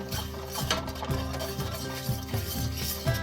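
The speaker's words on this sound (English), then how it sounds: "Mix it all together over medium-high heat." A utensil scrapes and stirs a simmering sauce of soy sauce, brown sugar and mirin in a pot over medium-high heat, in steady repeated strokes under a continuous background hum, close up with no talking.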